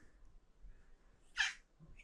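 A mother cat that has just given birth lets out a single short meow, fairly close, over a quiet background with faint low rumble.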